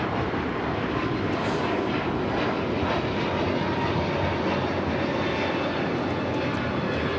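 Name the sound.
Hawaiian Airlines Airbus A321neo taking off from LAX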